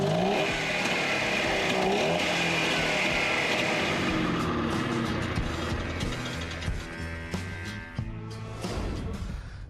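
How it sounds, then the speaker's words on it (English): A 6-horsepower single-cylinder two-stroke engine on a Goliath F400 runs and revs with a buzzy, rattling tone, rising then settling toward idle, close and loud with no talking. "powered by a 6-horsepower single-cylinder two-stroke engine. Both produced a sound as unforgettable as it was typical."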